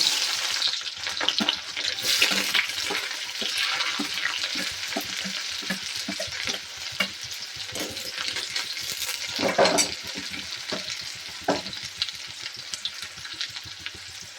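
Chopped onions sauté in hot oil with cumin seeds that were browned first, for a moong vadi (sandge) curry. A steady, close sizzle runs throughout, broken by repeated scraping stirs in the pan. No one speaks.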